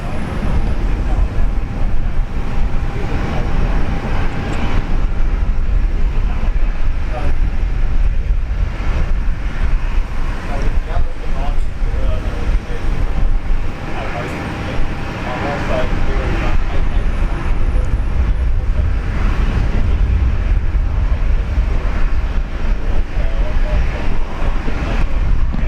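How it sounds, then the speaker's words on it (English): An Air New Guinea Boeing 767 at Brisbane International Airport, a steady loud jet engine roar with wind and rumble throughout, under intermittent talk. "Air New Guinea, Boeing 767."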